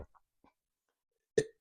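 A single short burp from a person, close and fairly loud, following a couple of faint small throat sounds in otherwise quiet surroundings.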